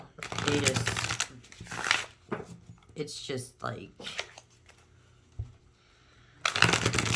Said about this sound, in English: I can sit here and shuffle these cards all day long just because of the way they feel when they shuffle